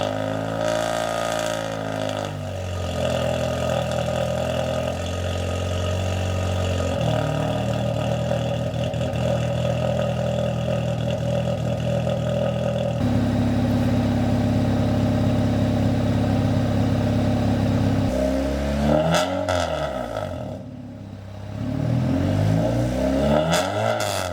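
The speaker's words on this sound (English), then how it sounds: "Here's what the car ended up sounding like with the new exhaust setup." Honda Civic R18 engine with an 8th gen Civic catback exhaust, loud and close, idling then revving repeatedly with rising and falling raspy exhaust drone and throttle blips, no talking.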